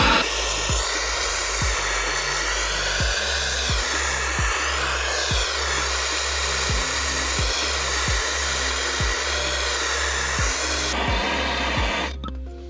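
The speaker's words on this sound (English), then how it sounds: "what happens if you blow gas torch on a 10 pounds of dry ice" A gas torch roars steadily, blowing its flame onto ten pounds of dry ice. The hiss is continuous and close and stays loud throughout, then cuts off briefly near the end.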